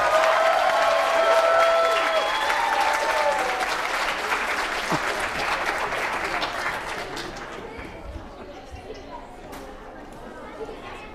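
A convention crowd at a comic con gives a round of applause for a contestant in a kids' contest, loud at first and then slowly fading, with crowd chatter mixed in.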